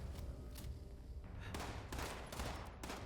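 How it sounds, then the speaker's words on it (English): Rapid gunfire from the video game Fallout 76 during a Radiation Rumble event, dense overlapping bursts of shots in quick succession against constant game noise, no talk. "They're still shooting at the one in the middle, that's fine."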